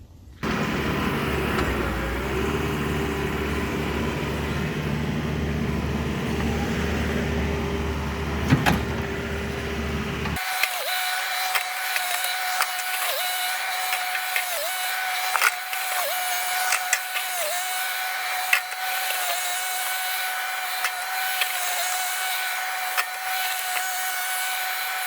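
A John Deere 4052R hybrid compact tractor drives a Gannon box blade through rough dirt, its steady engine drone and whine running continuously, loud and close, with a sharp change in tone partway through and occasional clanks over the hum.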